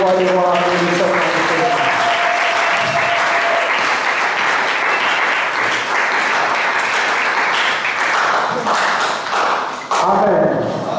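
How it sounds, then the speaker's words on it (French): A church congregation applauds loudly and continuously, dense clapping filling the room without pause. A voice and sustained tones sound near the start, and speech breaks in at the end. "J'ai dit, nous acclamons très fort le roi le Seigneur, le Seigneur."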